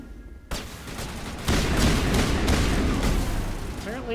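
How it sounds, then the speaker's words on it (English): Gunfire in the video game Mass Effect 1, a sudden burst of rapid, loud, close shots that swell into a dense sustained barrage, with a voice speaking over the shooting. "Apparently I cannot shoot somebody in the head at point blank range"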